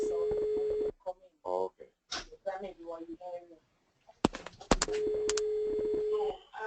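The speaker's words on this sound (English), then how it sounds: "I was hearing like a phone ringing or something" A computer-based phone link gives a steady electronic ringing tone, heard once at the start and again near the end, with a person talking in between.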